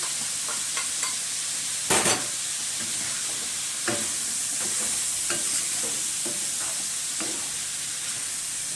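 Garlic and already-cooked spleen fry in a pan, giving a steady close sizzle broken by scraping stirs and a few sharper crackles, with no voices over it.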